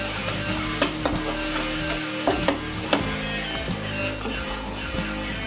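Ginger and garlic sauté in sesame oil with a steady, close sizzle, punctuated by sharp scrapes and clinks of a spoon stirring the pan.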